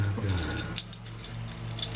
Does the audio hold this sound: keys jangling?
yes